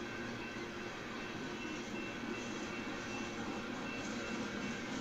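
A long freight train of boxcars and steel coil cars rolls past trackside, a continuous even rumble and rattle of wheels and cars holding steady throughout with no voices.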